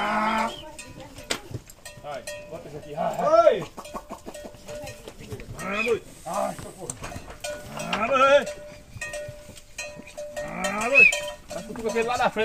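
Cattle moo repeatedly in a corral during vaccination, several loud calls from nearby animals mixed with a cowbell and handlers shouting under the lowing.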